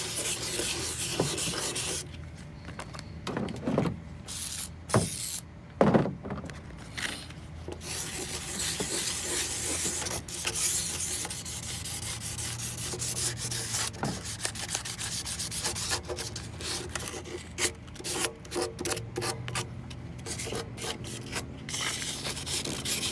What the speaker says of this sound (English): I'm not pressing very hard. I'm letting the sandpaper do all the work.